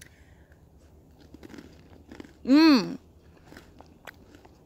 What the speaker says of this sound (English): I hear this has a really good crunch